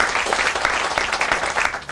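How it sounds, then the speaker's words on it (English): A crowd at an outdoor library groundbreaking ceremony breaks into steady applause, a dense wash of many hands clapping that holds evenly for a couple of seconds. "Can we give them a round of applause?"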